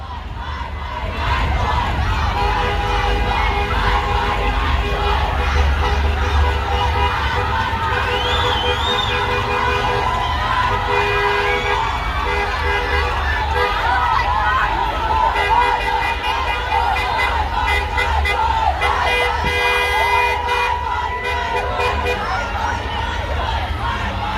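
A large street protest crowd in Santa Rosa, a steady loud wash of many voices shouting, cheering and chattering at once, with chanting and near-field talk running throughout.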